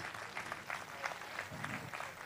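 A crowd at a classical music festival applauds Anup Jalota, with faint, distant clapping that swells and dips in uneven waves, some individual claps standing out.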